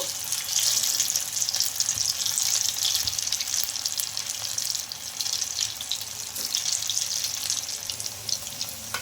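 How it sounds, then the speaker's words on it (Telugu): Steamed semolina rava snacks shallow frying in a pan; a soft continuous sizzle and crackle, fairly faint and steady throughout, with no talk. "ఇంకా మిగతా వాటిని కూడా ఫ్రై చేసుకోవాలండి"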